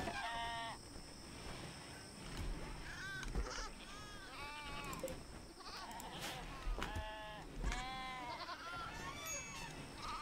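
Sheep in the video game RimWorld bleat repeatedly in a tight cluster of wavering, harmonic calls, several overlapping near the front, over a steady bed of in-game ambience with faint low thumps and no talking.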